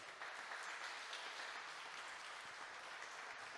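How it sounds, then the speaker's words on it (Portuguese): A church congregation applauds, a steady, even wash of clapping hands heard faintly at a distance, sustained without pause. "Aplauda o nome do Senhor Jesus, amém?"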